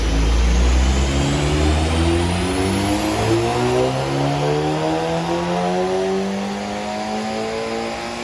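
A turbocharged VW Golf GTI Edition 30 engine revs hard through the gears on a dyno run. Its loud, close drone climbs steadily in pitch and keeps sounding without speech.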